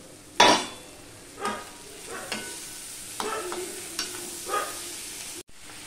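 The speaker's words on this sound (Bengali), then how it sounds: "আলু পেঁয়াজটা প্রায় হাফের মতন ভাজা হয়ে গেছে নুন হলুদ দিয়ে। এবার আমি এর মধ্যে টমেটোগুলো দিয়ে দিলাম।" Half-fried potatoes and onions with salt and turmeric sizzle in a pan as tomatoes go in for a Chittagong loitta shutki dish, with a loud clatter followed by repeated scraping stirs over the frying hiss.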